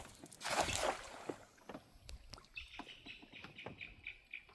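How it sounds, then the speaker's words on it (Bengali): Birds call in bright, repeated chirps against a quiet outdoor background in the Marichjhapi mangrove forest by a small creek, with soft water or movement noises early on. "পাখি ডাকছে।"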